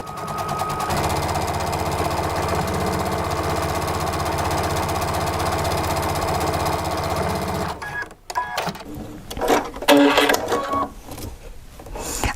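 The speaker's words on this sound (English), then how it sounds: "I'm going to sew a little bit slower because I kind of don't want to catch that fold" A sewing machine runs steadily at a slow pace while stitching a decorative stitch close to a fabric fold, a dense continuous mechanical whir that stops after about eight seconds, followed by scattered handling clicks and rustles.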